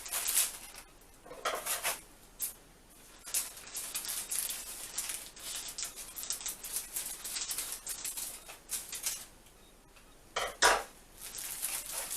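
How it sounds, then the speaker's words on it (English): A spoon scrapes and clinks against a bowl as white Pillsbury cake mix is poured in, with busy, close, irregular rattling and scraping throughout and a sharper clatter near the end, with no talk. "We're going to start by putting in the cake mix inside the bowl. I'm going to put my spoon right here."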